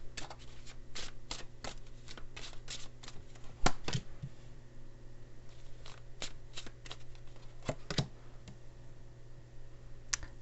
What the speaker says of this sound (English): I'm going to pull a couple of these Lenormand cards here.